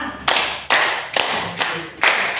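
Children clap their hands in a counting clap game, five crisp, evenly spaced claps about half a second apart, close and clear with no talk.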